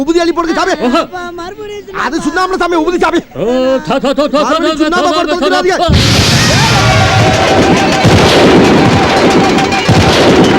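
Voices sing and chant, then dense, rapid celebratory gunfire erupts, a loud continuous crackle of shots and booms that fills the rest of the clip.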